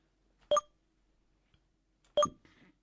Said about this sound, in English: just a notification on my phone